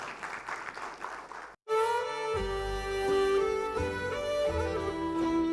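An audience applauds Dr. Sumit Singh at a film premiere: a dense wash of clapping for about a second and a half, then a sudden cut to loud music that fills the rest.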